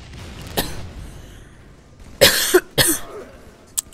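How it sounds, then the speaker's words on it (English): Several sharp coughs from a person, a single burst followed by a close pair and a faint short one near the end, heard up close with no talking around them. "I have a little bit of a cough."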